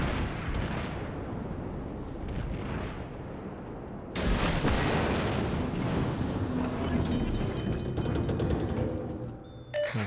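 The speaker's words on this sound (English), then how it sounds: "Someone's shooting HE at me." High-explosive naval shells fired at the German battleship Tirpitz in World of Warships, heard as a continuous roar of heavy booming impacts and rumbling, swelling with a sharp crash midway and staying loud throughout.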